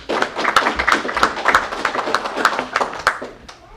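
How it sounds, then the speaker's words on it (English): Applause for award winners at a community services district board meeting, a steady patter of clapping from a room of people lasting several seconds before fading. "So let's all give our winners one more round of applause"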